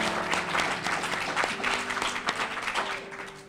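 Applause from the audience at a high school graduation ceremony fills the hall, a continuous dense patter of many hands clapping at close range for a few seconds, loud and unbroken, with faint music tones beneath.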